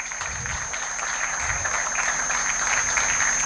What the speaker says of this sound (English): good big round of applause to them